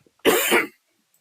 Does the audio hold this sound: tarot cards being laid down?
no